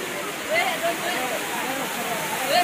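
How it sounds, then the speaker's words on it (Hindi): A waterfall at the Rock Garden in Chandigarh gives a steady broad rushing roar in the distance, with faint birdlike chirps and soft crowd sounds mixed in. "झरने पे पहुंचने वाले हम।"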